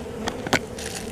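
Honeybees buzz at a hive built inside a bird house, a continuous nearby hum broken by a couple of short louder bursts and crackles.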